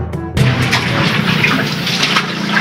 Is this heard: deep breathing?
no